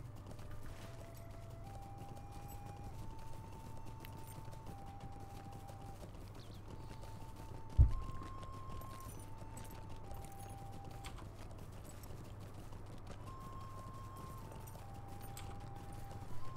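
Soft, steady clip-clop of horse hooves plodding along in the video game Lord of the Rings Online, beneath a simple background melody, with one sharp knock midway.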